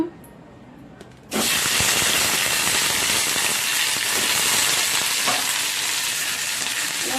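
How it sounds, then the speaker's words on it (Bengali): Tomatoes drop into a little hot oil in a wok for chutney, and a loud, close sizzle bursts in suddenly and holds steady and dense to the end, with no talking. "চাটনিটা বানাবো, তাই জন্য কড়াই একটুখানি তেল দিলাম। তেল দিয়ে এর মধ্যে আমি আস্তে আস্তে টমেটো,"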